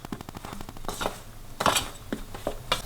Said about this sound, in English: once you finish stirring it with the spoon